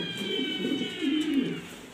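A pair of uncommon, top-quality exhibition pigeons coos softly in low, rolling phrases, two or three murmuring bursts close by with no talk over them.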